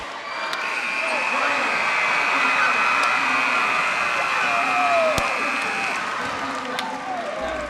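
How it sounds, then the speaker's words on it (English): Crowd at a high school basketball game, Hazleton Cougars, giving a standing ovation: steady loud cheering and applause throughout with scattered shouts and whistles. "The crowd gave the Cougars a standing ovation as the seconds ticked down"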